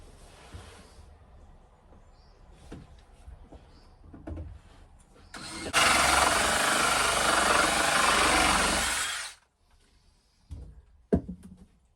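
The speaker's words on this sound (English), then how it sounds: "go through with a pilot hole" A power drill boring a pilot hole through a thick wooden batten inside a boat under refit, a loud steady whine lasting about four seconds, with quieter handling knocks and taps before and after.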